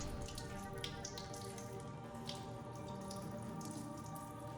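Water drains from two small hoses of a Gevi countertop ice maker into a sink after a cleaning cycle, a steady close trickle and splash with quick dripping patters and no voices.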